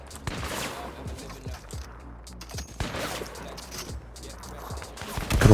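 Sniper gunfire in a video game: a rapid series of sharp shots and impacts, irregular and moderately loud, with other game noises and some faint voices in the mix.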